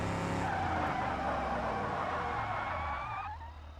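A car in the BeamNG driving game brakes hard and skids, its tires squealing loudly and continuously for several seconds before the screech fades out.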